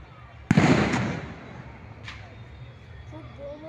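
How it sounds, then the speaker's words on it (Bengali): Firecrackers burst near the Digha Jagannath temple in one sharp, loud bang with crackling tail, then a fainter pop, over steady outdoor crowd ambience. "খুব বোমও ফাটছে।"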